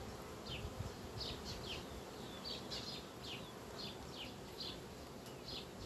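Bees buzzing close by in short, repeated passes over a dense, steady hum of a busy hive, with no talking.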